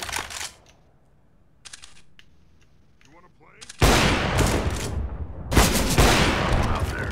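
Bursts of gunfire in CS:GO, sporadic shots at first, then sustained loud rapid firing with short pauses between volleys.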